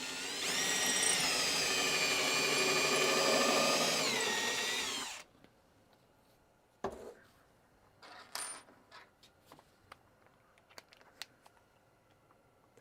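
A power drill drives drywall screws into a wooden test bench with a loud, steady whir lasting about five seconds, followed by scattered light clicks and clatter.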